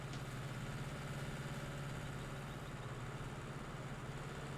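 Diesel tractor engine idling in the farming game Farming Simulator 19, a steady low rumbling drone that stays even and quiet throughout.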